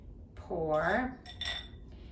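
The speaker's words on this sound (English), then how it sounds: "now I'm gonna whisk this up again a little bit more" A dressing for an antipasto Italian pasta salad is whisked in a bowl, giving a quick burst of clinking and scraping utensil strokes that lasts about a second, close and fairly loud, with a brief softer clatter after it.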